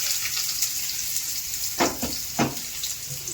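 Onion and garlic fry in a pan with a steady close sizzle, broken by two short, sharper bursts of crackling as the pieces are stirred or added partway through.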